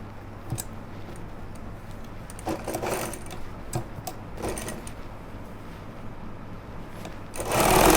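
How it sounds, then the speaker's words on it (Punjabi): A sewing machine stitches a pocket onto a pair of pajamas, with a steady motor hum broken by short, quick bursts of needle clatter. It gets louder in the final second, and no one speaks. "ਇੱਥੇ ਵੀ ਹੁਣ ਪੈਰ ਪੈਰ ਦੀ ਸਲਾਈ ਮਾਰਾਂਗੇ ਇਹਦੇ ਉੱਤੇ"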